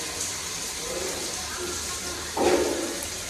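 Grohe Multi Flow body shower jets send out a continuous spray of running water in a bathroom under installation, with a louder gush surging briefly partway through.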